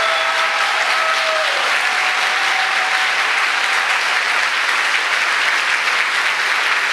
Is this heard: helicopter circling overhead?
no